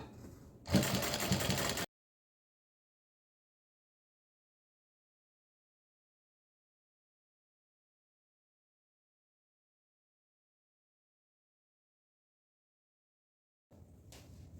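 A sewing machine stitches a kurti in a brief, steady whirring burst of under two seconds near the start. Silence follows, and faint sound returns at the very end.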